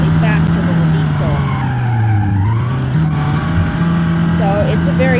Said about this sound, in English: It's a gasoline engine, so it's probably slightly faster than a diesel.